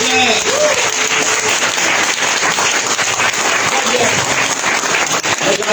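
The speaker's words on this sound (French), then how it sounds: "On peut applaudir très fort, s'il vous plaît." Loud, sustained applause from an audience at a French mental-coaching talk, a thick continuous roar of clapping, with voices and cheering mixed in throughout.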